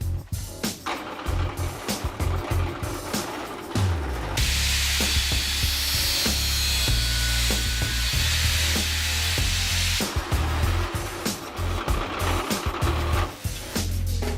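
Rough, rhythmic sawing through wood, strokes rasping back and forth steadily for several seconds, close by, with knocks and handling noise before and after.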